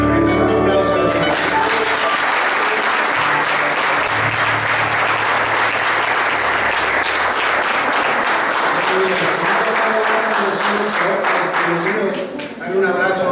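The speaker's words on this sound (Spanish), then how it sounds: "Dale un aplauso a la gente." A church congregation claps loudly and continuously at an Easter service, a thick wash of applause with music beneath, fading briefly near the end before resuming.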